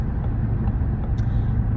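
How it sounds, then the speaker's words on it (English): Steady low road rumble of a car being driven, heard from inside the cabin, continuous and fairly loud with no talk. "It's just that I am driving and I need to concentrate."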